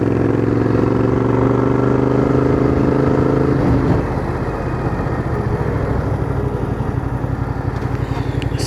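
Motorcycle ridden solo on a scenic mountain road near Mammoth Pool, its engine droning loud and close with a steady pulsing rumble that drops to a lower, rougher throb partway through.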